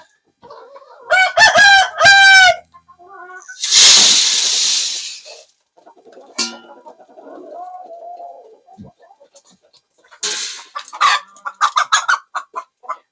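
Farm chickens on a Maine farm: a rooster crows loudly and close, then hens cluck in short bursts, with a rushing noise and scattered quieter clucks between them.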